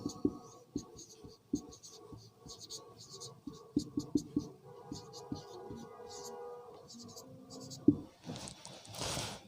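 A pen writing on paper or a board during an economics lesson, giving soft, irregular scratchy strokes with small taps, close and quiet, with no talking over it.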